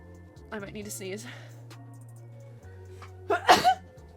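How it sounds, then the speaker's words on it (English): A single sharp sneeze bursts out near the end, loud and close, after a stretch of quiet talking and a steady low hum. "Sorry, I might need to sneeze."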